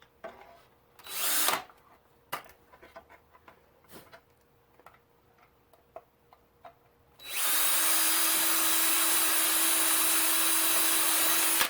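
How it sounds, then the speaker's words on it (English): A power drill whirs loudly and steadily through plastic after several seconds of quiet tapping and handling noises, with a brief earlier burst of drilling, during a costume gauntlet build. "when you're using the drill like that"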